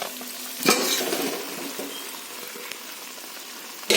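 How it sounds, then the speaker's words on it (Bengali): Fried potatoes tipped into a pan of cooked-down spices with a sharp clatter, then a steady sizzle of frying as they are stirred, with a second scrape near the end. "এবার আলুগুলো আমি এতে ঢেলে দেবো, এই ভাজা আলুগুলো"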